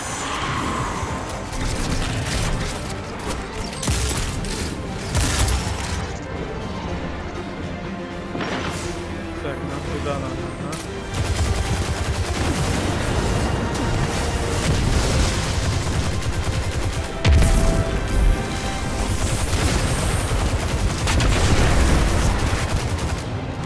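Gunfire and explosions in Destiny 2, fought through a Vanguard strike, with dense continuous shots, crashes and booms layered under game sound throughout.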